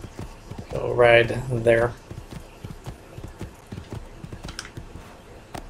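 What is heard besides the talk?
horse hooves clip-clopping in video game Assassin's Creed II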